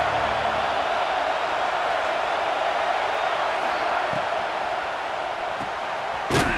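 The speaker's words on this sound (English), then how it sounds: "Listen to this crowd just shaking the girders of this place, trying to help their defense." A dense, continuous stadium crowd roar from a college football video game, a broad wash of loud cheering that holds steady across the whole stretch with a couple of brief thumps.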